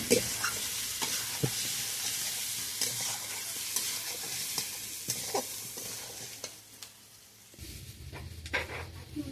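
Steady sizzling of taro curry frying in a pan with repeated scraping and stirring strokes, close and continuous, with a brief quieter patch near the end.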